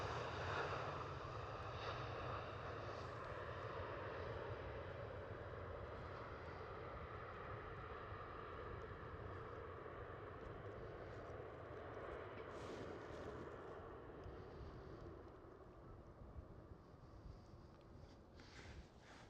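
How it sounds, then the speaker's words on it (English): KLM Cityhopper Embraer E190 jet just after touchdown at Amsterdam Schiphol, a steady broad engine roar with a low rumble that holds close and loud throughout, easing only slightly toward the end, with no voices over it. "we get even more sound effects of this KLM Cityhopper"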